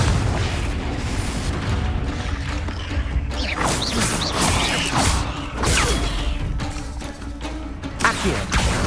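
Confringo fire-blast spell going off in the Hogwarts Legacy video game, a sustained dense roar of booming, crackling explosions and mechanical rumble that stays loud throughout, with a few sharper pops near the end.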